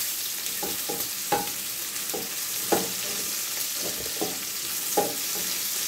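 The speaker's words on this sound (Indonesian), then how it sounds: "Ini harus sambil diaduk-aduk karena kadang-kadang cengkeh itu suka meletus ya." Shallots, chilies and cloves fry in hot oil while being stirred, giving a steady close sizzle broken by repeated sharp scrapes and knocks of the utensil against the pan.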